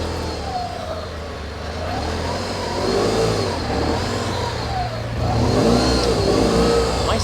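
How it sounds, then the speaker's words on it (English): A car engine running after a start, a close steady mid-pitched idle that swells into revving surges before driving off. "It has this thing where you have to start it, and then you have to let it run for a second, and then you can move off."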